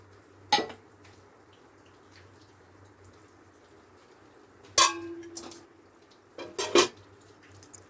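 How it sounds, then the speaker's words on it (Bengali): Hilsa fish pieces go into a pot of medium-thin curry gravy, giving a few brief clinks and wet splashes spaced apart, with a quiet, steady background between them. "দিয়ে এবার আমি মাছগুলো দিয়ে দিচ্ছি ঝোলের মধ্যে।"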